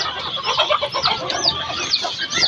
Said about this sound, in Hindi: शायद मुर्गी इतना चीख रही है